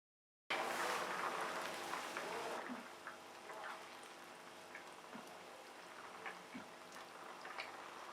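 Penne pasta boils in a pot of salted water with oil, a faint, steady bubbling hiss with scattered small pops, low in level and without talk.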